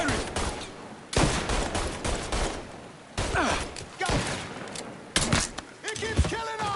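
Repeated bursts of gunfire from a firefight in the video game Mafia 3: several loud, dense volleys and sharp shots come in quick clusters with brief gaps, with voices mixed in among the shooting.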